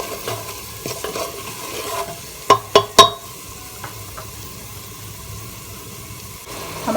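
Masala and curry leaves frying in oil in a pan while being stirred, a constant soft sizzle with a few sharp scraping spoon strokes in quick succession near the middle, close and alone without speech.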